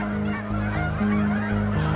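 A flock of geese at a pond honk loudly and continuously, many calls overlapping at close range with no one talking.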